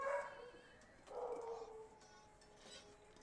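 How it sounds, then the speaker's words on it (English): Several house dogs bark and whimper in short bursts, faint and somewhat distant indoors, with quiet gaps between the outbursts. "There's my dogs again."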